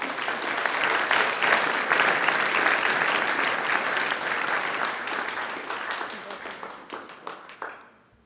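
Audience applause at a university graduation ceremony at Macquarie: a dense, steady crowd clapping that holds loud for several seconds, then thins into scattered individual claps and fades out.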